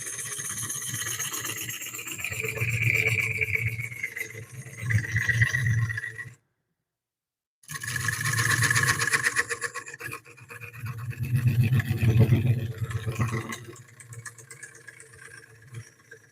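Walnut bowl being turned on a wood lathe: a steady scraping, rasping cut with a motor hum beneath, broken by a short silent pause midway before the tool bites again, fairly close and even.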